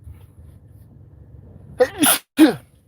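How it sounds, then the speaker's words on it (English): A single sharp, close sneeze bursts out after a quiet stretch, with a quick gasping intake just before it. "Ew, that was a nasty sneeze."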